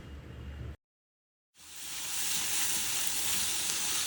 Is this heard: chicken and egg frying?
yes